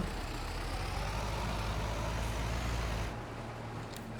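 Tractor engine in a farming video game, a steady low rumbling drone that runs loud and unbroken, then drops slightly in level for the last second.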